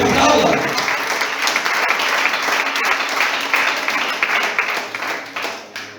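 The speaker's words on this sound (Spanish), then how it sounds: "Aplauda, que vive, aplauda." A church congregation claps in sustained, dense applause that gradually thins toward the end, with a preacher's voice over it.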